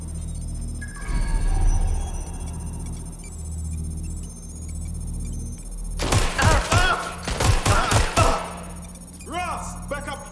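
Sharp bursts of rapid gunfire ring out in Watch Dogs Legion, a cluster of loud close shots crackling over a few seconds after a quieter stretch of rumbling game ambience, with a fainter echoing volley at the end.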